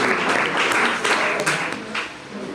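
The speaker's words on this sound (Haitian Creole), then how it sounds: "Exact, on a applaudi Riquelme" Applause for Riquelme: a dense, steady wash of many hands clapping that fills the whole stretch at an even, fairly loud level, with a few sharper bursts standing out, and no voices over it.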